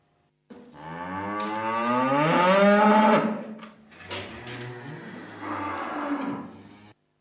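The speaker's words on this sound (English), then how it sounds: "Those be my cows." Cows moo loudly nearby: one long, drawn-out low bellow, then shorter lowing calls, with no other sounds around them.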